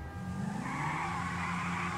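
Car tires skidding in Grand Theft Auto V, a sustained squeal with engine roar rising across a short stretch, close and prominent.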